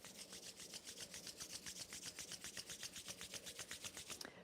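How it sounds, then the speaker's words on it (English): A pair of hands rubs briskly together during a yoga session, a steady rhythmic swishing of about twenty quick strokes, close and clear in a quiet room. "Then rub your hands together."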